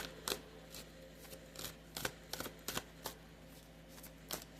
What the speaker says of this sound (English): Three more shuffles, and if nothing comes out, I'll say that is it for this deck.